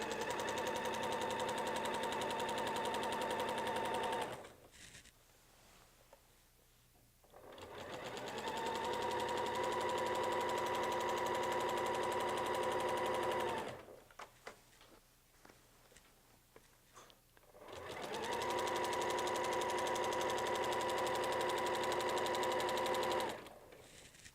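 Sewing machine stitching along a line of a quilt on a Weightless Quilter support, running in three steady, fairly loud bursts separated by short pauses with faint handling noise.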